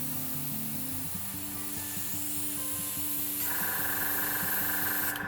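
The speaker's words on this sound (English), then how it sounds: "So then I'm just going to basically spray in the centre of this." A steady airbrush hiss as thinned white paint is sprayed onto the centre of a custom Sylvaneth Balewind Vortex miniature base for Warhammer Age of Sigmar, with a low motor hum and buzzing underneath, continuous and close, growing slightly brighter near the end.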